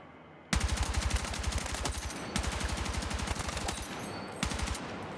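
A long-range gun in the video game Battlefield 6 fires in sustained rapid automatic bursts, loud and rhythmic, with brief pauses between strings of shots.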